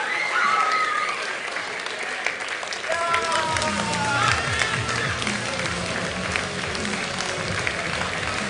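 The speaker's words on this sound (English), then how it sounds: "Let's give them a round of applause." Applause from the audience at an esports racing final of Project Cars 2 as the finalists come out, a loud, sustained clapping crowd with scattered cheers and a voice calling out over the noise.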